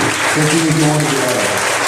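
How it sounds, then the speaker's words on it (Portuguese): A church congregation applauds loudly and continuously in worship, the dense clapping mixed with voices calling out over it. "E aplauda bem forte o nosso Deus, igreja."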